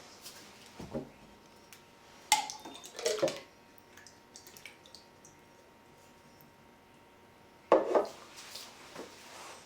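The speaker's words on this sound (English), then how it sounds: "I'm going to pour it out in a bowl and inspect it further." Canned pears tipped into a bowl, quiet wet slides and plops in a few separate bursts, the loudest near the middle and another near the end, with soft clinks between them.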